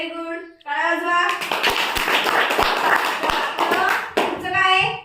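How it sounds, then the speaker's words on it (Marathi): Children clap their hands together in a classroom shapes lesson, a burst of scattered, overlapping claps lasting several seconds, with a voice speaking briefly before and after the applause. "टाळ्या वाजवा."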